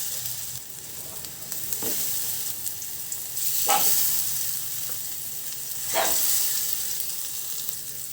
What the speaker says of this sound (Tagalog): Ayan, magpiprito na tayo. Maglagay na tayo ng mantika.